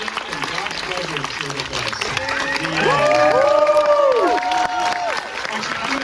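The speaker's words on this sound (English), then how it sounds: "Feel free to ovate as much as you want." An audience gives a standing ovation, with a steady wash of applause and cheering and a few whoops rising over it. Someone talks loudly over the crowd noise.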